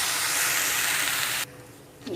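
Bitter gourd pieces dry-roasting on a hot tawa without oil give a steady broadband hiss and sizzle that drops sharply to a quieter hum partway through, with a faint clink at the end.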